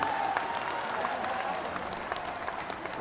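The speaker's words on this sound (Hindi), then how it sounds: "हमारे महाराज जी खातिर गड़गड़ा के ताली होनी चाहिए।" A large crowd at an auditorium inauguration in Ramgarh Tal claps steadily and continuously, a dense wash of applause with a few louder individual claps standing out.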